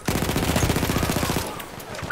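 Rapid automatic bursts from a BAR telescopic rifle in a World War I first-person shooter set in the Sinai desert, a steady close stream of shots for about a second and a half before it stops.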